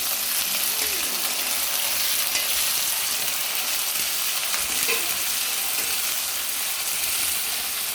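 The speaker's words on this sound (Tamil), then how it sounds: "மூணு பச்சை மிளகாயை போட்டு நல்லா வதக்கி விட்டுக்கலாம்" Green chillies frying and being stirred in a pan with small onions for a potato gravy, a steady loud sizzle running throughout with faint scraping of the spoon, no voices.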